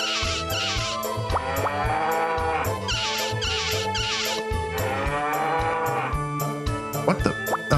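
Cartoonish cow moos from the Harvest Moon 64 farming game, several drawn-out lowing calls in a row over steady background game music, loud and close.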